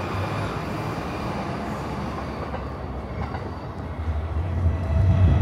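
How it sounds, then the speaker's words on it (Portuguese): A Hayabusa Shinkansen bullet train bound for Morioka, heard from the Tokyo suburbs: a steady, broad rushing rumble that holds throughout and swells louder toward the end. "Aquele é o Hayabusa. Indo pra Morioka, deu pra ver daqui."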